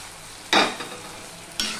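Potatoes for a vegetarian aloo tarkari hit hot oil in a pan with a sudden loud sizzle, then crackle down as they are stirred, followed by a second sharp burst of frying a moment later.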